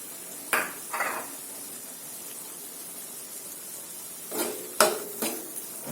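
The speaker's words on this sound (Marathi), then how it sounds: "आता याच्यामध्ये आपण ही आपली भिजलेली चणा डाळ टाकून घेऊया" Soaked chana dal goes into a pan of cooked tomatoes and gets stirred, giving soft scraping and clinking strokes in two short bursts, one early and a cluster near the end, over a faint quiet hiss, with no voices.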